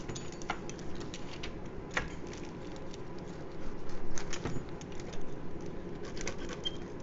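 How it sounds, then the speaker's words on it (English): A pizza cutter rolls through a sheet of grain-free cheezy chips, producing soft crisp ticks and irregular patters close by, with a busier, denser stretch of cutting partway through. "now I'm going to take my pizza cutter and cut it into 6"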